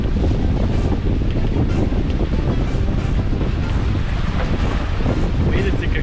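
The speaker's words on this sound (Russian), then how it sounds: "Видите, когда приходит ветер, яхта начинает наклонять, кренит." Strong wind roars steadily across the microphone at sea aboard a sailing yacht, with the wash of water and waves beneath the constant buffeting.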